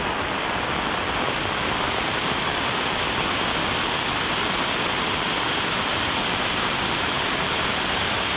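Flooded Konkan stream rushing past near a house, a loud, unbroken roar of turbulent water with no pauses or voices.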